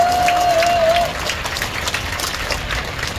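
A large crowd of churchgoers claps at an outdoor Christian rally opposing a queer festival, with a steady wash of applause and a voice briefly sounding over it near the start.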